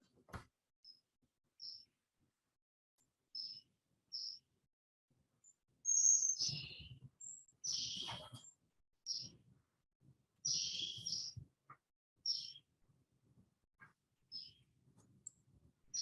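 A recording of birdsong plays back in a courtyard: sparse, high chirps and short tweets come in scattered bursts with quiet gaps, a few louder, fuller calls in the middle, and faint low rustling beneath.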